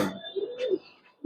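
Giribaz pigeons coo in a loft, a few soft, rounded low coos in a short sequence, close by and fairly quiet, with brief pauses between calls.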